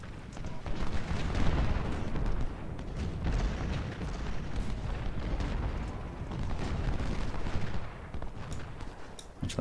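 Musket volleys and artillery fire from the Civil War video game Ultimate General: Civil War, during the Gaines' Mill battle. Dense, rumbling gunfire and booms roll on continuously at a steady, moderately distant level.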